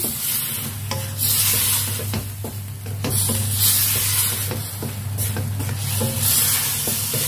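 Bitter melon and chicken wings are stirred in a pan, with a spatula scraping and knocking in repeated strokes over a steady sizzle and a low hum, loud and close.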